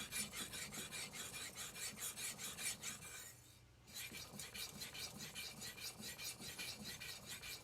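A Tojiro Professional R2 santoku knife is drawn across a whetstone with light pressure, giving a steady rhythmic rasping of repeated strokes that pauses briefly midway and then resumes.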